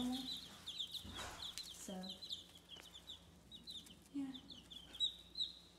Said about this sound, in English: As you can tell, they're a little bit skittish, but I mean, that's normal for chickens